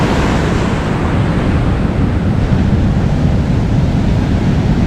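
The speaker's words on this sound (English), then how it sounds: "Look at those waves." Ocean surf rolls onto a beach at dropping tide, a loud, continuous wash of breaking waves with wind buffeting the microphone throughout.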